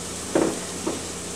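Diced red onion dropped into extra virgin olive oil in a pan, giving two short bursts of sizzle and stirring over a steady low frying hiss, fairly quiet and without talk.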